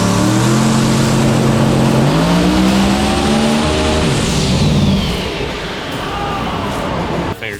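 A drag car on a chassis dyno, its ProLine Hemi with precision 98mm turbos screaming at full power, pitch climbing steadily for about five seconds before it backs off into a lower roar and a sharp cutoff.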